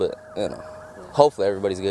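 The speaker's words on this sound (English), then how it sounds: "You can hear some of the sirens here in the background now." Someone talks in the foreground while a wavering emergency vehicle siren wails faintly in the distance behind his voice, at the scene of a plane and military helicopter collision crash near Washington.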